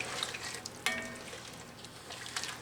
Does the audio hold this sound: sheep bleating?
no